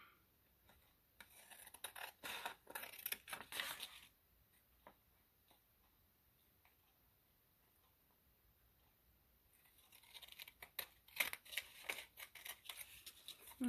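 Scissors trimming paper for a junk journal craft, a quiet run of crisp snipping cuts at the start, a pause with faint handling, then more snips near the end.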